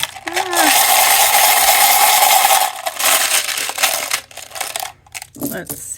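Small letter tiles shuffled and rattled inside a lidded container, a dense, continuous clatter for several seconds that thins into scattered knocks and a final rustle.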